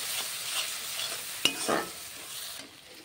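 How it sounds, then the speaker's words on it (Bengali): Turmeric powder being stirred into spices frying in a pan, a steady soft sizzle with scraping strokes of a spoon and one sharper clink near the middle, no voices. "হলুদ গুঁড়িটা দিয়ে ভালো করে আমি নাড়িয়ে দিচ্ছি"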